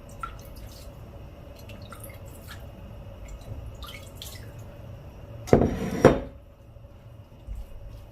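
Water trickles from a kitchen tap in a home kitchen while angel hair pasta is prepared, with a steady faint drip, soft clinks and taps, then a louder splash that runs for about a second.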